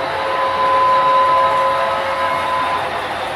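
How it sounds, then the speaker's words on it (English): A model train's whistle gives a single sustained, steady tone lasting a couple of seconds over a soft background hiss on a layout railway. "And he sounds a whistle."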